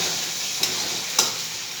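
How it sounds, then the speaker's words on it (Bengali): Chopped tomato fries in a pan with a little ginger paste, a steady close sizzle broken by two brief scraping stirs of a spoon. "আবার সেই টমেটোটা ভেজে নিচ্ছি"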